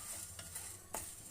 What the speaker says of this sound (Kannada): ಪುಡಿ ಮಾಡ್ಕೊಳ್ಳೋದಕ್ಕೆ ಸ್ವಲ್ಪ ಘಮ ಬರೋವರೆಗೂ ಇದು ಹುರ್ಕೊಬೇಕು